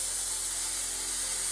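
A Haas minimum quantity lubrication atomizer nozzle sprays lubricant mist at a cutting tool inside a closed machine enclosure, giving a steady, even hiss throughout, with no talking.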